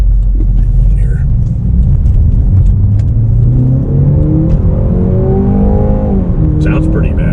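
A 2021 Jaguar E-Pace P250 accelerates hard, its engine rumbling up through the revs with a rising note, a brief dip near a gear change and a climb again, loud and close from inside the cabin.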